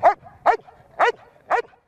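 An explosives detection dog barks four times at an even pace, short sharp woofs close by, with brief whimpery tails between them and no talking.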